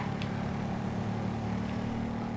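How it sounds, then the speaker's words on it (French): A Harley motorcycle cruises down a highway in the video game GTA V, its engine a continuous low droning hum that stays steady and moderately close, with no voices over it. "je suis sur mon Harley, tranquille, à me prendre des bagnoles, des caisses, à rouler comme un sauvageon"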